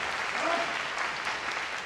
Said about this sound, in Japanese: ファンが拍手で答えていきます。